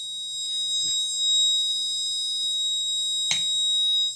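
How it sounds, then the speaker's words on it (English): An overload protection warning alarm sounds from an Arduino-based IoT smart grid load monitor: a steady, loud high-pitched electronic tone with stacked overtones runs throughout, broken by a couple of brief faint knocks. "so it is tell that overload protection warning signal"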